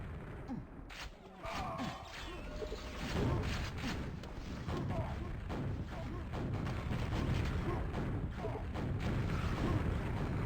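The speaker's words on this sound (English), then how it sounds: "Again, vaporized by that quad rocket." Rocket explosions in the QuakeWorld 2-on-2 match, quad damage active, booming one after another in dense, loud game combat with continuous rumbling blasts throughout.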